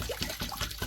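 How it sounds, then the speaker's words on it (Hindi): Water trickles and splashes steadily into a large kadhai set up for cooking khichdi outdoors in the hills, a soft close pour lasting about a second. "तो अभी इसमें रखा जा रहा है पानी।"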